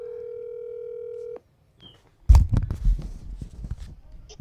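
A phone call being placed: a steady telephone dial tone holds for over a second, then a short beep, followed by louder clattering handling noise and muffled background sounds as the line connects.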